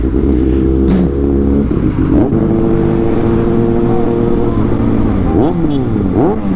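A Kawasaki Ninja ZX6R sport motorcycle revs loudly and steadily in traffic, its engine note holding high then surging in a few quick throttle blips near the end, with a voice talking and laughing over it.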